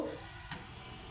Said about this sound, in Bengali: এই যে আলু সুন্দর করে লাল লাল করে ভাজছি